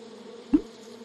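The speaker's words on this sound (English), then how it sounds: "Busy buzzing bees." Cartoon bees buzz in the Sago Mini School video game: a thin, steady drone with a brief louder bump midway, short and alone.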